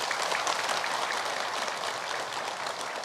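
Studio audience applause on an Indonesian religious talk show, a dense steady patter of many hands clapping at once, fairly loud and continuous throughout with no voices over it.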